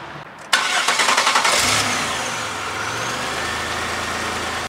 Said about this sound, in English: Now what we're going to do is we're going to start the car.